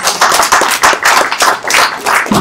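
A small audience at a talk claps in a lively, uneven burst, close by and fairly loud, the individual hand claps distinct and continuing without voices.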